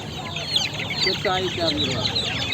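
Chickens cluck and chatter in a steady, busy stream, close by, with other birdsong and background noise mixed in.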